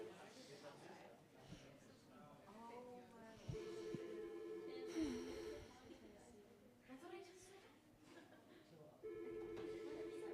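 A telephone rings in two steady tonal bursts, one near the middle and one at the end, fairly faint under people chatting in a room.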